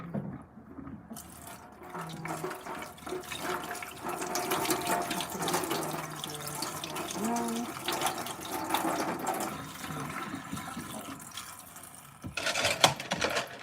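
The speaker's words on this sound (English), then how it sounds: "Now wash plates here." Plates being washed under a running tap: a steady stream of water with clinks and knocks of dishes throughout, fairly close, ending with a sharper clatter near the end.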